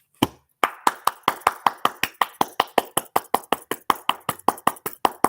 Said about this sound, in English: Here's the angels clapping for you.